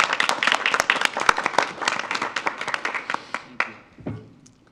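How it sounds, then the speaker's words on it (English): A small group at a school board meeting claps for a few seconds, individual hand claps audible close by, thinning out and fading to a stop near the end. "I think we should give him a round of applause."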